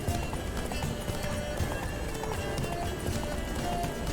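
Roach the horse gallops in The Witcher 3: Blood and Wine, a dense, continuous drumming of hooves with rhythmic clip-clop at steady pace, loud and close, over faint ambient game sound.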